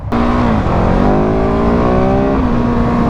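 KTM 690 Enduro R dual-sport motorcycle engine accelerating: a loud, close single-cylinder roar rising steadily in pitch with a brief dip as it shifts, then climbing again, with no talking.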